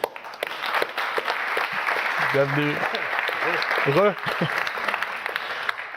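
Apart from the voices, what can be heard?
audience applause welcoming Marc Burki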